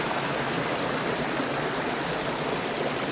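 A creek flows steadily along a walking track in the Blue Mountains, a close, continuous broadband rush and trickle of water with no voices over it.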